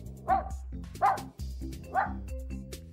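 Spark the dog gives three short, sharp barks spaced about a second apart, close and clear over quiet low background sound.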